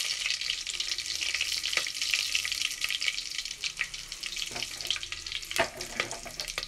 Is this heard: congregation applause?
no